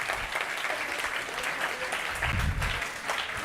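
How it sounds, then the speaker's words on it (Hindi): Students in a classroom give steady, enthusiastic applause, a dense wash of clapping hands filling the whole moment with no pause. "जिन्होंने हाथ नहीं खड़े करे उनके लिए जोरदार तालियां"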